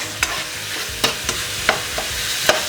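Mince browning with chilli and garlic in a frying pan, a soft steady sizzle broken by several sharp scraping knocks of a utensil against the pan.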